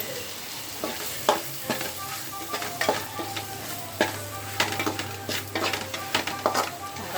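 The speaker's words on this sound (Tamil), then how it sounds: "ரெண்டு செகண்ட் மட்டும் அப்படியே அதுலேயும் வதக்கி விட்டு" Masala powders, coriander, cumin and chili, sautéing in oil in a pan for a vanjaram fish curry, with a steady sizzle and frequent close stirring scrapes and utensil clicks, while a voice talks quietly in the background.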